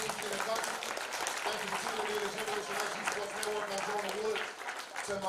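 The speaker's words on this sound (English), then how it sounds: "clap it up once again for the 2 top teams in the country" A crowd at a youth national championship media day for 9U baseball teams claps steadily for the two top teams, a dense, fairly even patter of applause with faint voices mixed in.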